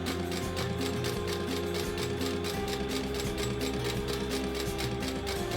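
A sewing machine runs steadily, stitching a 1-inch adjustable two-sided crossbody strap, its motor whirring continuously and loud throughout with a fast rhythmic needle pulse.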